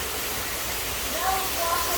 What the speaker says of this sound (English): Waterfall wasn't running the last time I was in here.